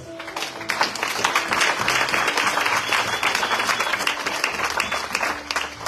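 A church congregation applauds, sustained dense clapping that fills the space at a steady, loud level throughout, with faint voices mixed into the crowd.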